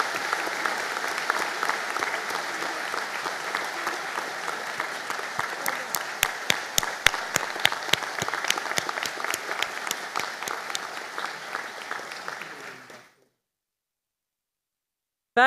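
Sustained applause from a graduation ceremony audience fills the hall for about thirteen seconds, with sharper individual claps standing out midway, then stops abruptly into silence.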